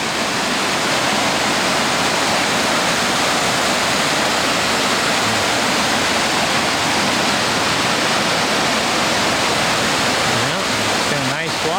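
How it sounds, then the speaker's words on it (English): Creek water flowing out of a mountain lake near a hiking trailhead in August, a loud, continuous broadband rush close by that stays steady the whole time. "We'll take another little clip at the trailhead, but get to enjoy the peaceful water."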